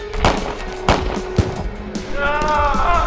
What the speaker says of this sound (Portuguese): ela ouvia os disparos